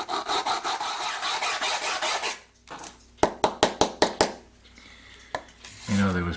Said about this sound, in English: I'll take a piece of scrap here and I'll make some sawdust as a filler